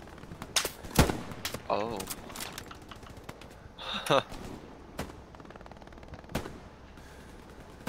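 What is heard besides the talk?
gunfire in video game Escape from Tarkov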